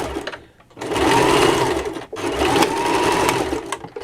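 A sewing machine stitches a large tote bag in two steady, loud whirring runs, close by, separated by a brief pause, with no talking.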